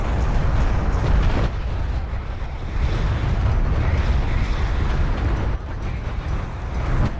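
Artillery barrage from siege cruisers in Homeworld: Deserts of Kharak, a dense, continuous rumble of overlapping explosions with brief dips, loud and sustained, no talking.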